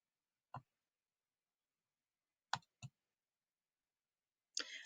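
A computer mouse clicks in a quiet room: one click, a pause, two quick clicks close together, then a softer rustle, all near and sharp.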